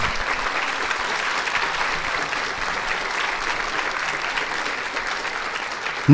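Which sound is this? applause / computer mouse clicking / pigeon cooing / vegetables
applause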